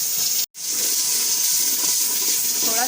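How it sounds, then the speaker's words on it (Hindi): Water hitting hot masala of red chilli and salt in a cooking pot, a loud steady steamy hiss broken briefly by a short gap near the start, with no talk. "थोड़ा सा इसमें ऐड करेंगे पानी।"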